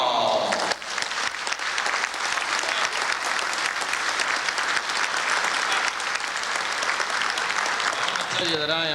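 Audience applause for a cowboy poet and entertainer at a cowboy poetry gathering, loud and sustained for about eight seconds, breaking out after a brief moment and fading at the end into the start of speech.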